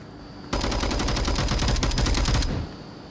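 A video game match in a VR esports league, where a sustained burst of rapid automatic gunfire rattles loudly for about two seconds, then cuts off.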